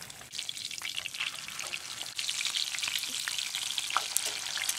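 Bullhead catfish fries in oil on a Coleman grill outdoors, a close, continuous crackling sizzle with frequent sharp pops that grows slightly louder, with no talk.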